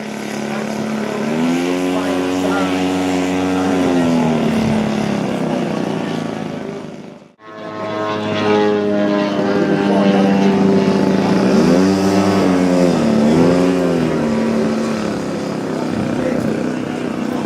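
Loud buzzing engine of a large model airplane in flight at an outdoor fly-in in Shepparton, pitch rising and falling as it maneuvers, briefly cutting out before roaring back.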